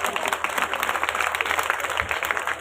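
Sustained applause from a crowd at a Catholic shrine festival Mass in Allipalli, honoring a shrine director; dense, steady clapping at moderate level with no speech over it.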